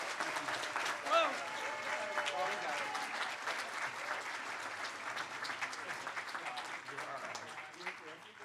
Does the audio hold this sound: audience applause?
yes